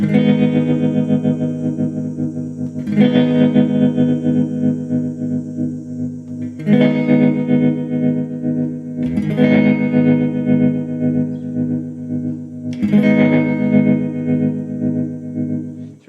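An electric guitar runs through a JK Pedals Baby Doll Deluxe tremolo pedal, with a sustained chord pulsing under the effect's throb and freshly struck chords sounding roughly every three seconds, loud and alone.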